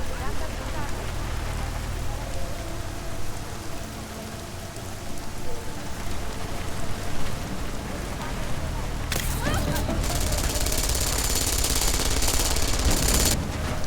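Rapid turret gunfire in the cyberpunk shooter Deus Ex: Mankind Divided comes as a dense, steady rattle through the whole stretch. It swells into a harsher, brighter burst toward the end, and no voice is heard.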